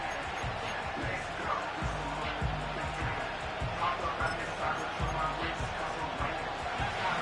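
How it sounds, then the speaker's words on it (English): Steady stadium crowd roar from the Madden NFL 25 football game, Falcons against Ravens in the Super Bowl, rising on third down, with a commentator talking over the constant broad din. "This crowd into it now as we get to 3rd down."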